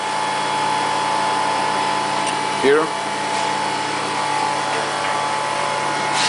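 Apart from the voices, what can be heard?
vacuum pump running in a tumbler machine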